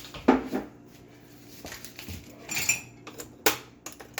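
Metal utensils clink and scrape against a cooking pot as pudding is added, with a few sharp knocks and clatters among quieter handling noises and no talking.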